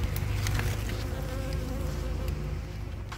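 A dense, steady drone of many honeybees buzzing close by inside a trash can, continuous and fairly loud throughout with no talking.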